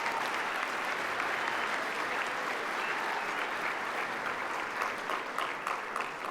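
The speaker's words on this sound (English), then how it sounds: "Let's give a round of applause for Bright House." Dense, steady audience applause at a regional business awards event, sustained clapping from a large crowd for the whole stretch with no letup.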